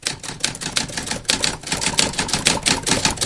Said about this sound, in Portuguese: Olha, teletipo.